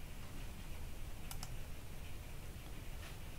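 Arrow keys on a computer keyboard pressed and released, a couple of faint close clicks over a steady low hum, no voices.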